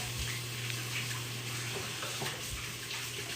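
A sink tap runs steadily while something is rinsed under it, giving a continuous close splashing rush with small fluctuations and no speech.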